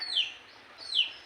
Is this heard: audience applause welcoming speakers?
no